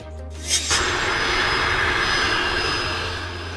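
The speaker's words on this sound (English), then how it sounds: "Ambulance airplane, an airplane used for long-distance emergency medical response and patient transport." An ambulance airplane used for emergency medical transport roars with a steady, loud engine drone that swells after a brief start and holds evenly throughout.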